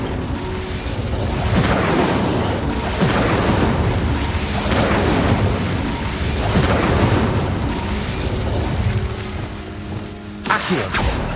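Repeated booming spell blasts from Hogwarts Legacy, heavy fiery explosions rolling one after another over a continuous battle din, loud and dense, with a sharper burst near the end.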